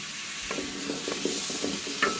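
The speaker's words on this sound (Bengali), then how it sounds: "অল্প এক চামচ মতো তেল দিয়ে ভেজে নেব আলুটা" Potatoes fry in a spoonful of oil while being stirred, with soft rhythmic scraping strokes over a quiet, continuous sizzle.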